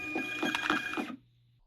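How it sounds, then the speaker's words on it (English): A label printer runs through a print job with a close, buzzing mechanical whir and rapid stepping chatter for about a second, then cuts off sharply and leaves a low faint hum. "To print your labels click on the print icon on the toolbar"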